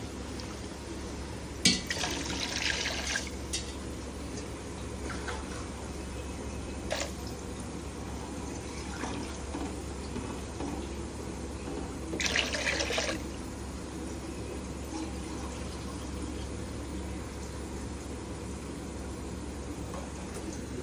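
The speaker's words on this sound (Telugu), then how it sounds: "ఇప్పుడు మనం వాటర్ వేసేసుకుంటాం." Water is poured into a pot of raw rice for chicken pulao, about five glasses for two and a half cups of rice, giving a steady splashing rush with a couple of louder gushes.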